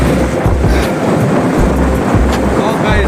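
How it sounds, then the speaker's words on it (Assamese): A train runs along a railway beside a bridge, its steady rumble and rhythmic wheel clatter continuing throughout at close range, with no talking heard over it. "সেইটো গাড়ীত চব ৰেল গৈ আছে"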